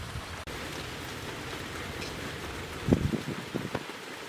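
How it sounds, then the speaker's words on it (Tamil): Large pot of water at a rolling boil for village-style fish biryani, a steady broadband hiss of bubbling with a few louder pops and splashes toward the end, heard close with no talking. "தண்ணி நல்லா கொதிக்க ஆரம்பிச்சிருச்சு."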